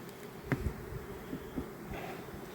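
Low, steady buzzing of many honeybees close by on a hive frame, with a few brief louder bumps and knocks.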